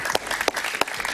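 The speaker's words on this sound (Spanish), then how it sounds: "Un gran aplauso para Luis Yusti, por favor." Applause from a studio audience on a Spanish-language talk show, a brief burst of clapping with a few sharper individual claps.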